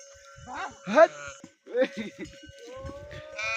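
Bells on dzo pack animals clank and ring as the animals carry sheep-fold goods down a hill trail, with irregular jangling close by and animal or voice sounds mixed in.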